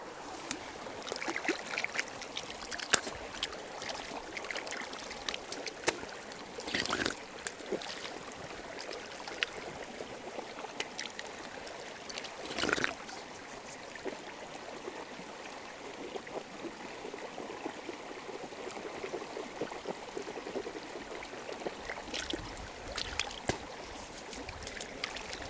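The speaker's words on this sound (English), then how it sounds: "just gonna go over to the creek and rinse." Creek water flows faintly and steadily outdoors, with a few soft splashes and knocks from rinsing at the water's edge.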